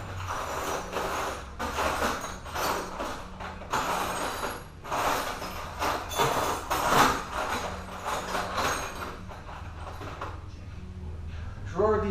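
A junk drawer pulled open in a garage workshop during an Oldsmobile 350 intake job, followed by loud, continuous rattling and clattering of loose tools and parts being rummaged through, with someone talking over it.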